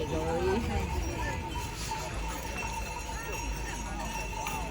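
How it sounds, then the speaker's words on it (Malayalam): Horse hooves clip-clop in a steady rhythm as a horse pulls a cart in winter in Cavnic, Romania, amid outdoor noise, with people talking over them. "ഞങ്ങൾ കുതിരവണ്ടിയിൽ കയറി"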